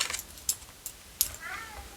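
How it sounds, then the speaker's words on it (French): A cat meows several times in short, sharp calls spaced across a couple of seconds, fairly close, with a quiet background between them. "Il y a mon chat."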